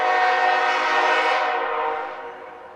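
A CSX freight train horn, with SD50-2 locomotives leading, blares loudly and steadily, holding its chord for a couple of seconds before fading as the train moves off.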